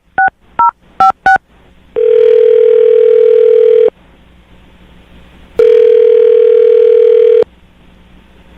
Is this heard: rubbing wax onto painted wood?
no